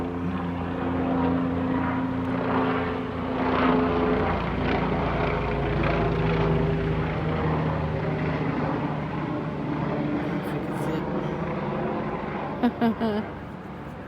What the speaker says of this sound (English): The nighttime helicopter.